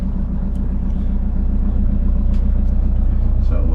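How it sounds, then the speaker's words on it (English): A boat engine rumbles low and steady nearby while motoring out slowly around Southwest Harbor, Maine, a constant throbbing drone that grows slightly louder toward the end. "so we'll just motor out here a little bit and keep my speed down till the engine warms up"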